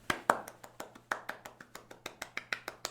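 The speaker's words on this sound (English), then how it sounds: "And then there's clapping piped over the speakers from the audience and some cheering." Clapping sounds from behind at a theatrical gala in a Vampire: The Masquerade tabletop roleplaying session, steady evenly spaced claps, moderately faint and alone.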